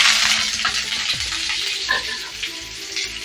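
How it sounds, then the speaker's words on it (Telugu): Loud, steady sizzling of a tempering of cumin, mustard seeds, dried red chillies and curry leaves frying in hot oil, close up, with a few stirring scrapes and small pops throughout. "ఇలా వేసుకొని బాగా ఫ్రై చేసుకోవాలి చూడండి పోపు బాగా ఫ్రై అయింది కదా"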